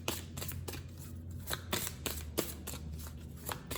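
Cards are shuffled and drawn at close range, with a quick run of crisp riffling snaps and soft slaps repeating at an irregular rhythm over a faint background.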